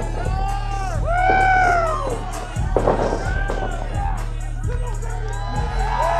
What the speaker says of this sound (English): But the crowd here seems to be really into it.